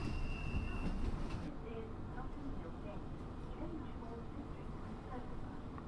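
Central Line 1992 stock train running in the Open.BVE simulator, a steady low rumble with faint rhythmic wheel clatter heard from inside as a passenger, continuous throughout with some brief higher noise early on.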